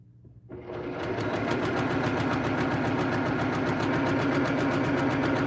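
A sewing machine stitches a French door panel quilt wall hanging. It starts after a brief pause, then runs steadily and loudly with a fast, even mechanical chatter throughout.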